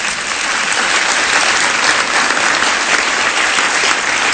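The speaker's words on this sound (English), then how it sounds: "applaud for her?" A studio audience claps for Madeleine Albright in loud, dense, continuous applause that holds steady throughout.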